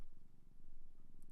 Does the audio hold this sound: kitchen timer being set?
no